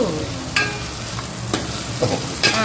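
Curry leaves sizzle in hot oil for gongura pulusu, a steady crackling fry close by with a few sharper spits and pops scattered through it.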